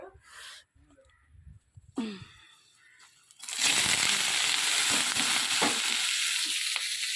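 Vegetables hit hot fish oil in a pan for a chorchori and sizzle loudly, a bright continuous frying hiss that takes over after a few quiet moments of handling noises, with some stirring clatter.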